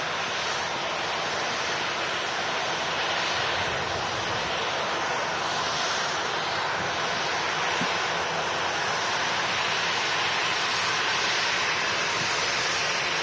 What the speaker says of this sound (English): Miss Ryanair in from Alicante